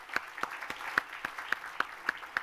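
Audience applause at a charity hospice event, heard as a sparse, rhythmic run of individual claps, fairly close and moderately loud, with no talk over it.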